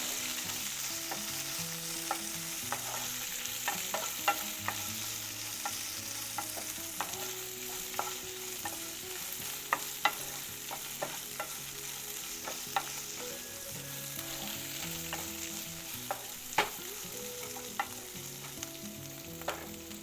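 Bajji chillies being sautéed in a pan for chutney, a steady soft sizzle broken by repeated sharp scrapes and taps of a spoon against the pan, close and fairly quiet, with no voices.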